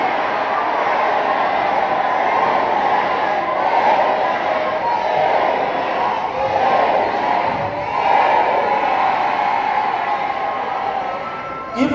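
A church congregation at a Sunday service shouting and cheering together, a dense, loud sustained roar of many voices that swells and dips for the full length.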